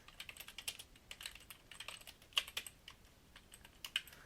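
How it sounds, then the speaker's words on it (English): Someone types on a computer keyboard, entering code during web page editing, with quick, light, irregular key clicks heard close and fairly soft, no voices. "I can actually just type this in."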